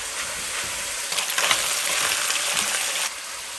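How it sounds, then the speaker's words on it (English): Chicken thighs stir-frying in a pan for claypot chicken rice, giving a steady, close, loud sizzle and hiss that swells briefly midway, with no talking. "Kind of stir fry it."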